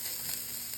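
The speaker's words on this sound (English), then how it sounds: "We're gonna start with some beef that I already browned. Put that in there." Browned beef going into a hot pan for a casserole, sizzling with a steady close frying crackle and hiss throughout the short moment.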